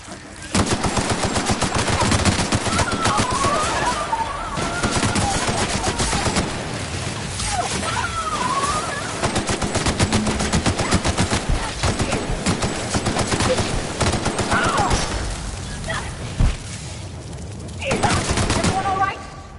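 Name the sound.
gunfire in The Outer Worlds video game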